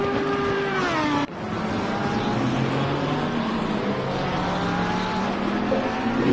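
A McLaren race car in Assetto Corsa Competizione at the Nürburgring screams at high revs, its engine pitch climbing, then dropping sharply at an upshift before building steadily again, loud and close with other cars faintly behind.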